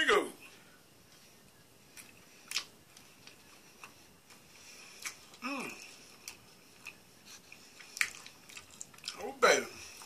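A McDonald's strawberry cream pie with cream cheese and jelly filling being eaten: sparse crunchy bites and soft wet chewing clicks spaced over several seconds, close up and fairly quiet, with no talking during the bites.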